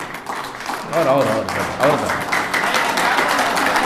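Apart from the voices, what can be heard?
audience applause at mushaira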